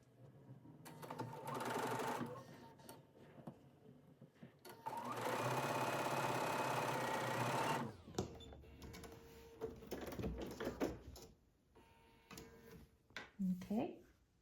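A sewing machine runs in two bursts, a short one and then a longer steady run, as quilt block pieces are stitched together, with someone talking quietly between runs and handling noises afterward.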